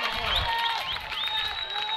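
A high school football crowd at a St. Michael versus Plaquemine game cheers loudly and continuously, with whistles and shouting voices forming a dense, close roar.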